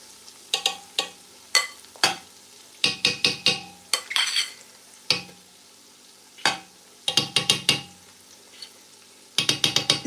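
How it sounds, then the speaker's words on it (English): Repeated scraping and clattering of a utensil stirring egusi soup in a pot, in loud bursts with pauses between, over a soft background of low-heat frying. "It's now frying"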